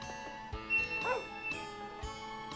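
A dog in the farming video game Harvest Moon 64 gives a few short, synthesized yips and barks at low volume, with game music playing steadily underneath.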